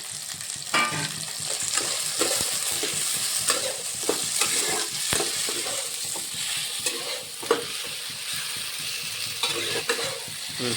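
Four slit green chilies and capsicum fry in a pan for a meat dish, giving a steady close sizzle broken by repeated stirring scrapes and clinks of the spatula, with no talking.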